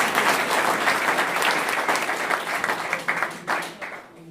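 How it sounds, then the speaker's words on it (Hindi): Dense, steady applause from an audience at a joint meeting of several organisations in Jind, clapping continuously throughout, thinning slightly with a few sharper claps near the end. "एक बार जोरदार तालियां बजाने का काम करें।"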